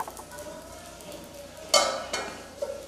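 Appam batter being poured into a nonstick pan gives a soft, steady sizzle, then a metallic clink and scrape as the pan is lifted and swirled, followed by a lighter knock near the end.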